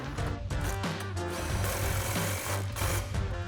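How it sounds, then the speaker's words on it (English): An impact wrench with a 21mm socket tightens a track bar bolt on a 2019-2024 RAM 1500 during a coil-over install. It makes a loud, continuous rattling hammer that shifts in pitch as the bolt snugs down. "Grab our impact 21mm socket and tighten that down."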